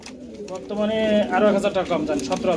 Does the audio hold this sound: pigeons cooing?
yes